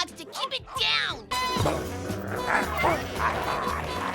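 Cartoon boys hypnotized into dogs, voiced imitations of barking, yipping and whimpering, loud and busy over a dense animated soundtrack.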